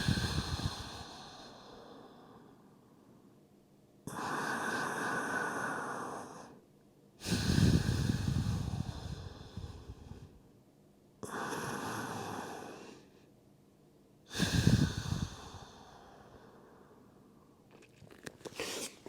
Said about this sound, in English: we want to breathe in 360 degrees through our entire rib cage